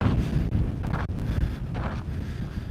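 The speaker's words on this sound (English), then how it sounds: "this is really windy." Wind blows hard into a microphone outdoors, producing loud, low buffeting rumbles and gusty bursts that swell and dip throughout, with no talk.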